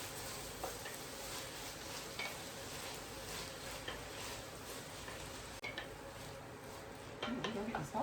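A spoon scrapes and clinks around a pasta pot while bouillon, pepper and Italian seasoning are stirred in, with soft sizzling underneath and intermittent metallic taps growing busier toward the end.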